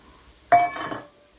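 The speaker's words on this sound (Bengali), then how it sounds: "মাংসটা বাটির মধ্যে দিয়ে নেব" Raw chicken pieces set into a bowl for spicing, giving one sharp clink of meat and utensil against the dish followed by a short settling rattle, close and fairly quiet.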